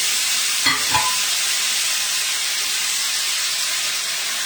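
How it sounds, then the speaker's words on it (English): Black beans and potatoes fry and sizzle steadily in a pan, a continuous close hiss with a couple of brief stirring scrapes near the start and no talking. "We're just going to brown this up a little bit."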